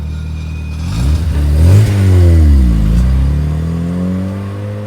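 Mazda RX-7 FD sports car lapping nearby, its rotary engine revving up and down in a loud swelling sweep, alone without talk.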